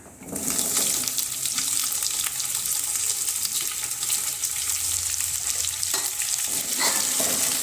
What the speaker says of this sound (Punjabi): ਪਿਆਜ਼ ਪਾ ਕੇ ਮਿਕਸ ਕਰ ਲਵਾਂਗੇ ਤੜਕੇ ਦੇ ਵਿੱਚ